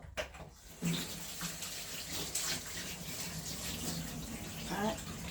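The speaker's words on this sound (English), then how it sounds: "Cut it into 2 pieces and get it washed." Tap water running steadily into a sink while cut yellow yam pieces are washed, a continuous close splashing rush with faint talk underneath.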